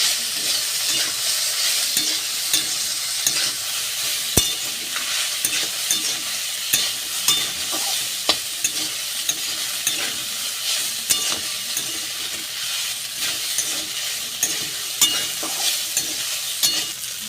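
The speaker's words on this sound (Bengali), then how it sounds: "অল্প করেই পাস্তা ভেজে নিতে হবে" Boiled pasta fries with green chillies in a pan for a homestyle aloo pasta, giving a continuous bright sizzle close by with regular scraping stirs and occasional sharp clicks of the spatula.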